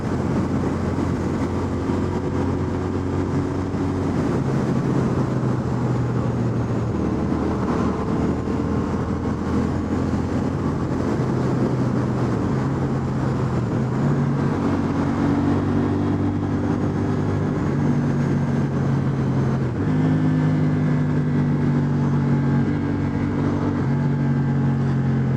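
Steady drone of a 2025 CFMoto CLC 450 motorcycle engine while riding, a continuous hum with shifting engine tones and wind rush, running smoothly for the whole stretch with no talk.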